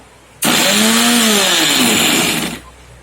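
A mixer grinder whirs to life grinding food, a loud steady motor roar with a slight pitch rise, running about two seconds before cutting off abruptly, up close and alone.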